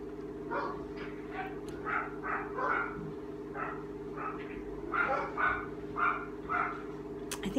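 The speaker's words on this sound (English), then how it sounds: "I apologize if you can hear my dog barking." A dog indoors barks repeatedly in a steady series of moderate, somewhat muffled barks over a constant low hum, with no talking.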